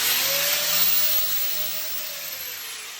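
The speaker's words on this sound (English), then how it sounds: "I'll just put an old buffing wheel on there." An old buffing wheel on a power tool radiusing the edge of a Rokblockz mudflap for a Ford F150 Gen 1 Raptor, a loud, steady high-pitched whine that holds evenly and slowly fades slightly.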